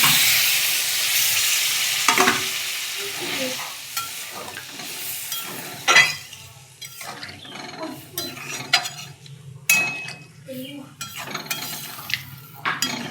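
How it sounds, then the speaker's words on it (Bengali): Water goes into a pan of sautéed soybean chunks and potato curry, bursting into a loud hiss that fades, followed by intermittent spoon scrapes and metal clinks against the pot. "এবার আমি জল দিয়ে দেবো।"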